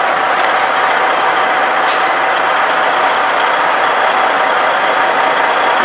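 A semi truck backing up to hook onto a trailer, its engine making a steady, loud broadband rumble throughout, with a brief hiss-like burst near the start.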